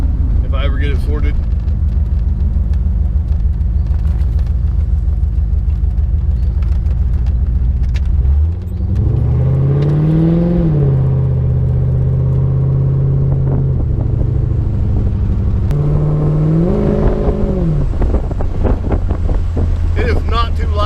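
A loud, rumbling 1991 C4 Corvette V8 engine with a deep exhaust note from muffler eliminators, revving up in rising pitch sweeps while accelerating around 40 mph, under steady wind noise and some talk.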